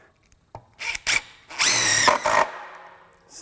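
A compact impact driver on speed level 2 drives screws into wood, whirring in several short bursts, then one longer high-pitched run that winds down, close by with no talking.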